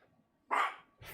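A dog in a small apartment gives one sharp, loud bark, with the start of a second bark cut off at the end.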